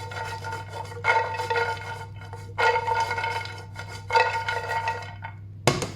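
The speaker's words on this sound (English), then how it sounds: "I'm gonna dump all these walnuts in." Walnuts tumble and scrape across a hot pan for candying in three distinct rattling bursts over a steady low hum, with a sharp clatter at the very end and no talking.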